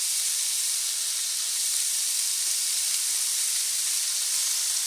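Goose meat searing in a hot pan for a stir fry, a loud, steady, close hissing sizzle that holds evenly throughout with no voices.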